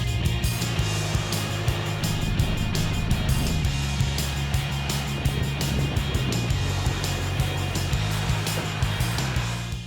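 A 2020 Mercedes-Benz Unimog dual-cab truck drives off-road at a 4x4 park near Melbourne, its engine giving a steady, loud, close rumble with rough clattering and bumps throughout, and no talk.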